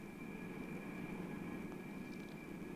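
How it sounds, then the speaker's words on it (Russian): Steady, faint drone of a passenger airplane cruising at 9000 meters, heard from inside the cabin as a continuous engine and airflow hum with no talking. "наш самолет летит на высоте 9000 метров"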